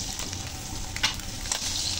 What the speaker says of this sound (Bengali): ডিমটাকে এভাবে উল্টে পাল্টে ডিমটাকে লাল লাল করে ভেজে নেব।